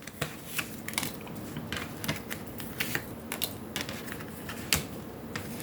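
Tarot cards being shuffled and drawn by hand give quiet, close, irregular crisp snaps and flicks with soft rustling in between, and no voices.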